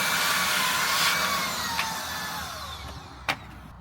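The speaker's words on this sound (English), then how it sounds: "Do you vacuum in your engine?" A vacuum cleaner runs inside the engine bay of a narrowboat with a Beta 43 engine, a steady whining drone that slowly fades, with a sharp knock near the end.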